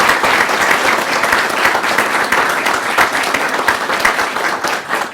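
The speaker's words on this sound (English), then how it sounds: "Let's have a round of applause for all of our National Board Certified Teachers." Loud, continuous applause fills a room at a reception honouring National Board Certified Teachers, a full audience clapping steadily and close for over five seconds.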